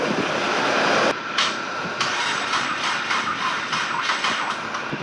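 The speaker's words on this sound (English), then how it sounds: "Cranking over" A Ford Fusion converted to rear-wheel drive with a swapped-in EcoBoost engine churns under a loud rough noise for about a second, then cuts to a series of uneven knocks and clatters from the car.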